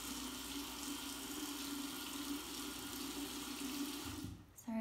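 Water runs steadily from a sink tap in a bathroom while someone wets their face, a constant close splashing hiss that stops abruptly near the end.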